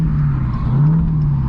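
A 1100 hp Dodge Hellcat Redeye car's engine drones steadily and loudly up close, a low, even rumble while coasting with no speech over it.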